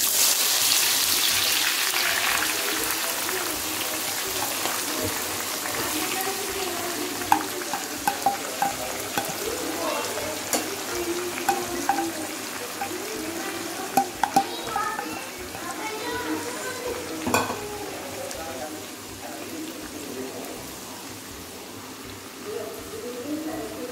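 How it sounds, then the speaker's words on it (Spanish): Four finely sliced onions frying for biryani, a busy bubbling sizzle with frequent spatula clacks and stirring scrapes, while a person talks over it. "Las vamos a cortar finitamente y las vamos a freír."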